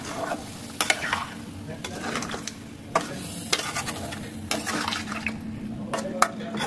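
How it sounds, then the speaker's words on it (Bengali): Meat fries in a pan with a splash of water, sizzling steadily while a utensil stirs and scrapes against the metal in irregular clanks and taps throughout, fairly close. "আমি এই পানিটা দিয়ে আবার একটু কষিয়ে নেব ভালো করে।"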